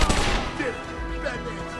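Rapid gunfire from enemies in Batman: Arkham Asylum sounds as a dense, loud burst of overlapping shots and rattling automatic fire, with what may be faint talk mixed in.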